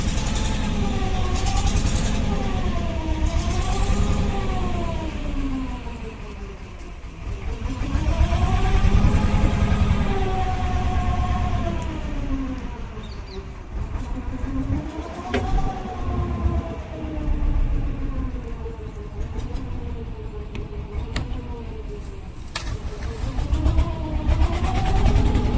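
A boat engine drones continuously at close range as the boat turns on a creek, its pitch rising and falling in slow sweeps and the loudness swelling and easing throughout.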